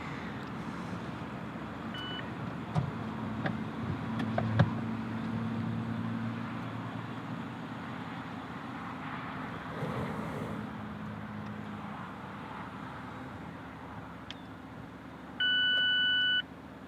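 A 2024 Mazda MX-5 Miata RF Grand Touring retractable hardtop cycles open, marked by a series of sharp electronic beeps over a low steady mechanical hum, with a longer warning tone near the end.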